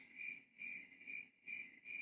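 Steady cricket chirping, repeating in four even pulsed bursts at a moderate, fairly faint level, with no other sound.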